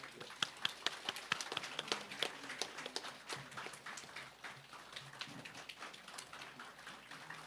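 Scattered audience applause at a Korean award ceremony for legislative and policy proposals, faint and distant, with uneven clapping that keeps on at a low level.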